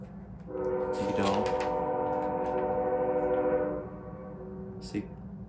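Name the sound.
passing train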